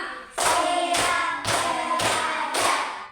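Five sharp, evenly spaced hand claps, each a loud broadband burst with a short ringing tail, close by and without talk.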